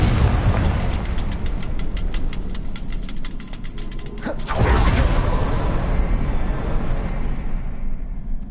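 A Confringo blasting spell goes off in Hogwarts Legacy, a loud booming explosion with a sharp burst midway that rumbles and fades amid creaking game ambience.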